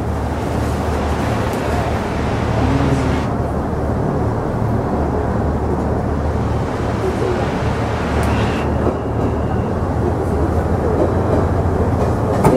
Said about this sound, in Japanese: 10番線列車が入ってまいります